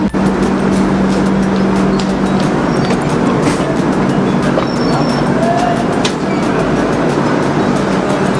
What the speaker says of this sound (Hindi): तो अब मैं आपको दिखाता हूँ डिपार्चर इस ट्रेन का न्यू दिल्ली से।